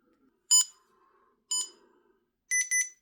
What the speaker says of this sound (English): There's a double beep.